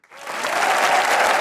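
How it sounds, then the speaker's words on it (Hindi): A studio audience at a stand-up comedy show bursts into applause after a brief pause. It swells quickly into steady, dense clapping that stays loud and continuous to the end, with no voices over it. "तालियां बजाइए।"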